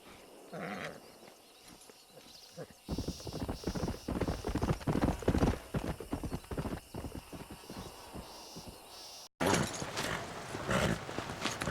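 A stallion's hooves clip-clop in Red Dead Redemption, a steady rhythmic trot that starts loud after a quiet opening and runs until an abrupt cut, followed by a short burst of other ambience.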